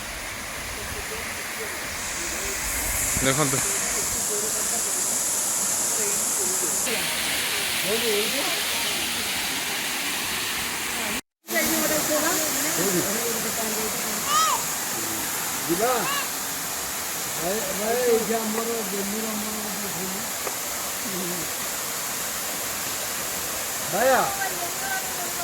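Khuludi waterfall in Odisha, near Khuludi Mahadev Temple, roars as a constant, broad rush of falling water, while people talk over it.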